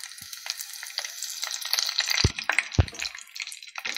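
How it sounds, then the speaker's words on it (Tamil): Curry leaves and dried red chilies frying in hot oil with mustard seeds give a steady crackling sizzle, with a couple of sharp pops and spatters near the end, close and moderately quiet. "கருவேப்பிலையும் வரமிளகாவும் போட்டுக்கலாம்."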